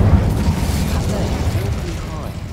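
The Incendio fire spell cast in Hogwarts Legacy gives a dense, low, rumbling whoosh of flame that holds steady and then slowly fades over a couple of seconds.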